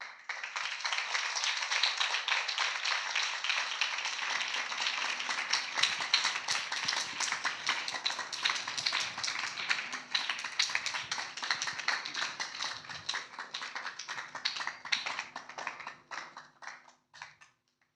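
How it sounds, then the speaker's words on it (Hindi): A church congregation clapping together during a prayer service, a long dense stretch of sustained applause that gradually thins to sparse claps before stopping. "मैं चाहता हूं एक बार हम ताली बजाएं।"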